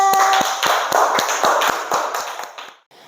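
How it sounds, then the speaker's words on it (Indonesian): Schoolchildren in a classroom clap together in a patterned rhythm, a series of sharp unison claps about every quarter second that fade out near the end, with a brief tone at the start. "tepuk tangan buat kita semua"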